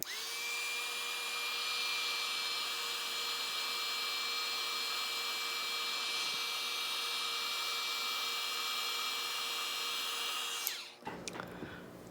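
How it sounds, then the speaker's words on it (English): An embossing heat gun blows hot air with a steady whirring whine for about eleven seconds, then cuts off, leaving a few faint clicks. "I'm going to use the embossing tool, heater,"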